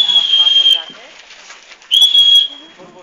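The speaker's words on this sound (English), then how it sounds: "I'll just talk to those dogs through the whistle." Two long, shrill shepherd's whistle blasts commanding sheepdogs at a sheepdog show in Brisbane, Australia, loud and steady, separated by a quiet gap with faint outdoor background and low voices.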